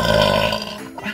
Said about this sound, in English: that gave me a really big burp